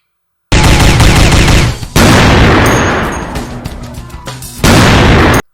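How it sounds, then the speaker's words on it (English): Gunfire exchanged at a warehouse: very loud, dense bursts of shots in three heavy volleys, with a decaying echo between them and no talk. "Gunshots were exchanged."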